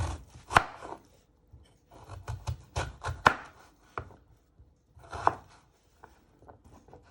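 Knife chopping vegetables into matchstick pieces on a board, a close series of sharp, uneven taps with short pauses between bursts.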